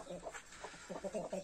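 A young rooster makes strained, forced crowing attempts in a backyard poultry run, short uneven calls repeating through the moment, fairly close but not loud, with a person's voice mixed in.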